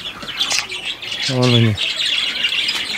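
Farmyard muscovy ducks kept as egg layers give a single harmonic, nasal squawking call lasting about half a second, set against a background of small bird chirps, with someone speaking briefly nearby.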